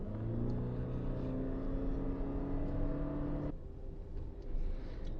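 A Toyota Vitz hybrid accelerates in gear with a rising, steady engine and motor hum under road rumble, then the tone drops abruptly partway through as the drivetrain shifts, heard from inside the car.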